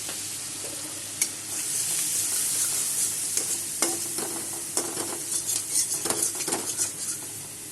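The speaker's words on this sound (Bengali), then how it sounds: "সব মশলা এখন আমি একসাথে কষাবো" Ground cumin, coriander, Kashmiri chili powder and turmeric frying in oil, a steady low sizzle punctuated by the clicks and scrapes of a spoon stirring against the pan, close and fairly quiet, no voices.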